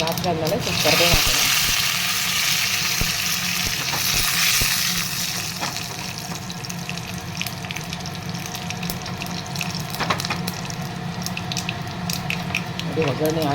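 Curry leaves hit hot oil in a kadai with a loud burst of hissing spatter, which eases into a continuous sizzle broken by occasional crackles and pops.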